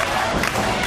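Loud wrestling crowd roars steadily throughout a brief, dense burst of cheering at a live independent wrestling event.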